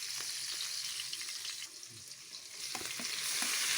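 Food sizzles steadily in a frying pan on a home stove after fish has been fried, a dense close crackle that grows a little louder toward the end, with no talk.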